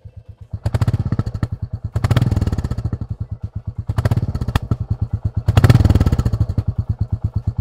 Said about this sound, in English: That seems to be like 3000 RPM.